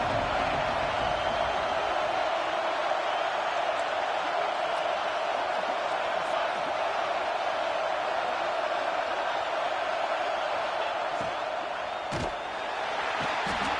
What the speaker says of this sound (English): Comes the noise from this big crowd in Happy Valley on 3rd down.